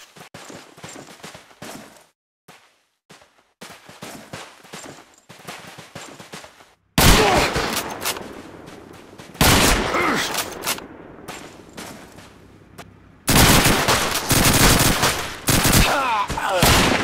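Machine-gun covering fire in the World War II shooter Call of Duty 2, with loud sustained bursts of automatic gunfire after a quieter stretch of scattered shots and battlefield noise, and the fire resumes in a second heavy stretch.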